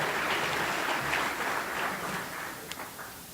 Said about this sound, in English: Big round of applause for Greg and Artie.